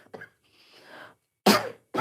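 A person coughs close by, a sharp loud burst followed by a second shorter one, after a quiet breathy exhale.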